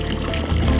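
Water pours and trickles steadily, likely filling a child's pool or basin, with a rushing flow that grows louder and fuller toward the end.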